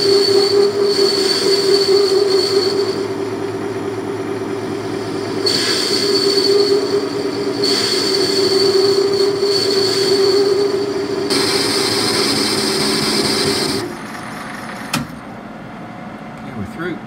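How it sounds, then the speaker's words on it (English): A lathe parts off a metal drill press pulley, a sustained loud grinding squeal with a steady tonal whine that swells and eases in phases, then cuts out near the end, leaving a quieter spindle hum. "let's part this off so we can expose the bore in the centre"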